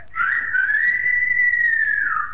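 A single clear human whistle holds one long, bright, slightly wavering note for about two seconds, close and alone, in a scene from the 1957 Hindi film Baarish.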